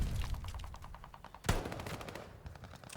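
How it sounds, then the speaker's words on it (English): An MP40 submachine gun fired from the hip in Call of Duty: Vanguard, a rapid steady stream of gunshots with a louder blast midway, continuous automatic fire up close. "Hip firing with this current setup I've got on this MP40 is really nice"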